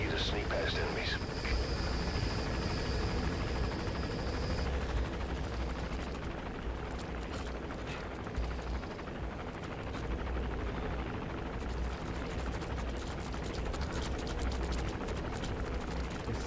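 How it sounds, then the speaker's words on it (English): An enemy gunship helicopter in the video game Metal Gear Solid V, a dense rumbling rotor roar that stays loud throughout under game sounds and voices. "That's an enemy gunship."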